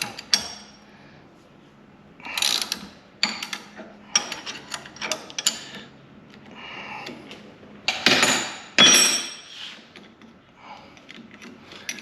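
Scattered metallic ratcheting clicks and clanks as a clamp is loosened, in irregular bursts with quiet gaps between them, close and fairly loud.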